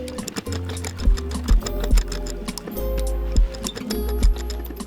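A sewing machine stitches through thick leather for a travel watch roll, running in steady mechanical bursts with rhythmic thumping needle strokes and brief pauses between runs, close and fairly loud with no talk.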